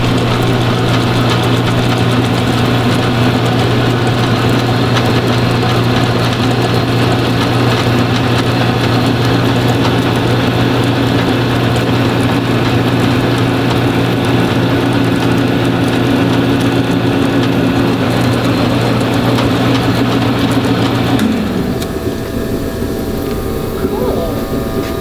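Metal lathe running with a knurling tool engaged so its wheels spin on the workpiece, a loud steady motor hum with tonal whine that drops away near the end, leaving a quieter background.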